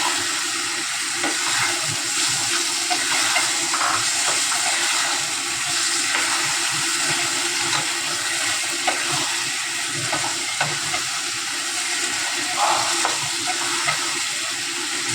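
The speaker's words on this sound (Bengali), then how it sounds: "চানাটা আমি দিয়ে দিচ্ছি এখন" Chickpeas fry with garam masala in a hot pan for chana masala, a steady dense sizzle and hiss lasting throughout with occasional soft stirring scrapes.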